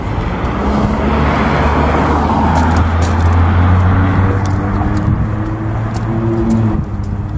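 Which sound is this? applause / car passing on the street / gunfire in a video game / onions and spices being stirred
car passing on the street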